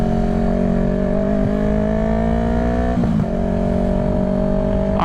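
A warm 2020 Yamaha R3 motorcycle idles steadily after startup, its engine note loud and close with a slight rise in pitch and a brief blip of revs midway.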